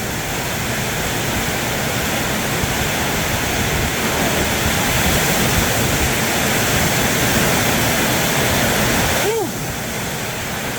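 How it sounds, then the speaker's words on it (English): Wind-driven rain in a summer storm in Thailand roars as a dense, constant hiss for the whole stretch, loud and unbroken, with a brief whooshing gust near the end. "Now the water is hitting my arms, on my shirt, my pants, pretty much head to toe."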